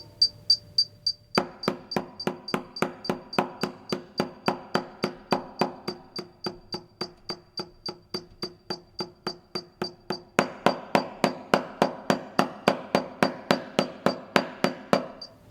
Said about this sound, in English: What I did here is I sped it up quite a bit. This is actually 16th note equals 212.